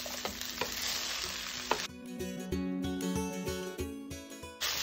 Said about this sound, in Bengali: খুব বেশি এটা নাড়ানো যাবে না, হালকা হাতে নাড়াতে হবে।